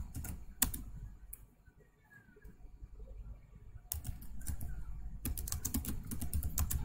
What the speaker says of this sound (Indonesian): itu harus kita ketikkan halo gimana kabarmu